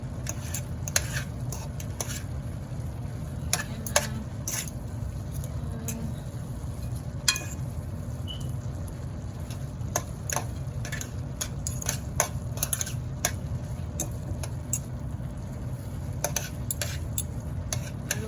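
Pancit noodles are stirred and fried in a pan, with a continuous low sizzle under repeated sharp clicks and scrapes of a utensil against the metal, some in quick bursts and some spaced out.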